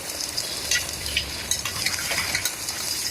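A spoon stirs onions, coriander and mint in a simmering pot, soft scraping strokes and light clinks over a continuous bubbling sizzle, close by.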